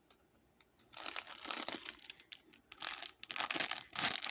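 Plastic packaging being peeled and pulled off a set of beach toys, with repeated bursts of crinkling and tearing in close, fairly loud waves separated by short pauses.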